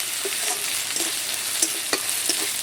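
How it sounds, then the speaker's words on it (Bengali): Whole garam masala spices frying in oil in a pan, a bright, steady sizzle broken by repeated sharp clicks and scrapes of a spoon stirring them, close and loud, with no voices. "মশলাটাকে একটু ভেজে নিচ্ছি"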